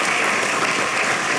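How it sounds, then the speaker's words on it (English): A crowd in the stands at a swine show breaks into steady, dense applause for young exhibitors and their breeders, continuous and fairly loud throughout. "Give these kids, those breeders who helped them, nice round of applause"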